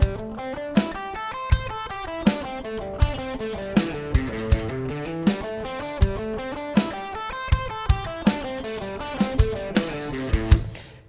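Electric guitar running a pentatonic scale pattern in steady 16th notes over a driving drum beat, with regular loud kick and snare hits and no talking.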